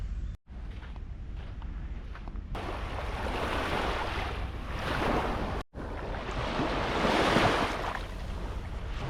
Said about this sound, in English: What I find amazing about the Great Lakes is there's actually waves.